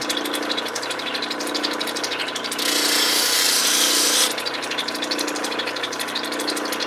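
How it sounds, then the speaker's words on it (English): A Lightning Ridge crystal opal is ground on a 280 resin grinding wheel, with a steady motor whine and rough abrasive rubbing and a louder hissing stretch partway through, close and continuous with no talk. "This is a 280 resin wheel at this point."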